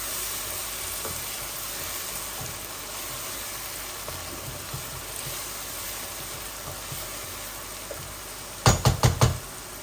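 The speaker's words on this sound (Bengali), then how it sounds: "এগুলো ভাজা ভাজা হোক।" Fried onions and spices in a pan, giving a faint, steady sizzle throughout, with a short burst of four quick, sharp knocks near the end.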